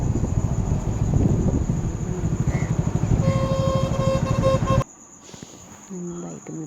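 A motorcycle rides along a road, its steady engine drone loud and continuous with a tonal whine and horn-like tones near the end before the noise drops away abruptly to quieter ambience.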